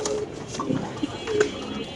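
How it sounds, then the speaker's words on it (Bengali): Pigeons on a large pigeon farm coo in low, soft murmuring calls, a few close-by coos rising over a busy background of other birds and faint voices. "দেখেন আমরা জাস্ট একটু কবুতরের ডাকটা দেখাই আপনাদের"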